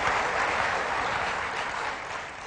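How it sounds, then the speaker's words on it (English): Dense audience applause fills a hall at a 1995 OpenStep Day keynote, a continuous loud wash of clapping that eases slightly toward the end, with no voices over it. "I know some of the people clapping are our shareholders in the audience"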